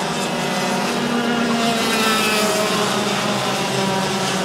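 Yamaha TIA junior and SS junior racing karts in a qualifying heat at Mizunami, with a dense, continuous drone of several engines close by and loud, while a commentator speaks over it.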